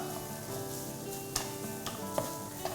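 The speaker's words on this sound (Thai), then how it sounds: "ให้เราใส่ตัวหัวไชโป๊ที่เราตวงไว้ลงไป ผัดให้พอเข้ากันนะครับ" Preserved radish stir-fried in a pan over low to medium heat, likely with garlic, as a steady close sizzle with a few sharp scraping clicks of the spatula, alone without talk.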